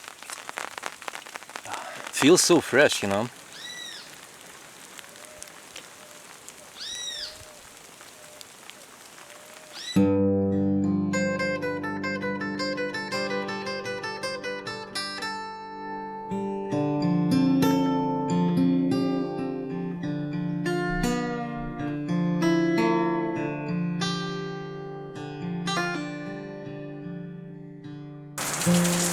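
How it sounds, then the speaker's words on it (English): Rain falling in the Paraguayan wilderness, a soft steady patter under a man's speech early on, later joined by music. "I was boiling a little bit more water and it started to rain"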